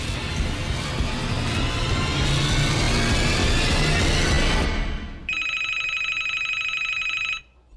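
A telephone rings loudly in rapid repeated bursts after a stretch of heavy rumbling noise, then stops abruptly.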